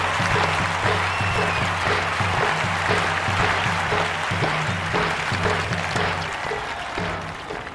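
A stadium crowd in a London 2012 Olympics archery video game cheers and applauds loudly and continuously for an American archer. Game music tones run underneath, and the noise fades slightly toward the end.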